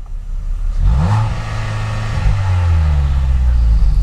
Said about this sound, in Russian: Сейчас Алексей разгазует.